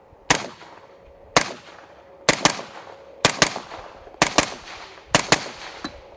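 Suppressed gunshots fired through an RC2 non-flow-through suppressor: six or seven sharp, loud reports, some in quick doubles, spaced roughly a second apart, each with a short decaying tail and no speech.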